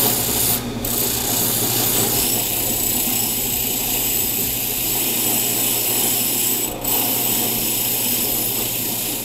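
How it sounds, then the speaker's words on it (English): A wire wheel scrubs rust off a Damascus steel knife blade, a loud continuous abrasive whir close by with two short dips where the blade shifts. "running it over the wire wheel for a little bit just to clean it up"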